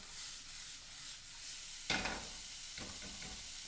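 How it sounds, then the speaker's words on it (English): Steady sizzling and crackling of onions frying in a hot pan over high heat, with a louder burst of hiss partway through and some stirring or scraping. "Obviously you can hear the pan sizzling, which is great."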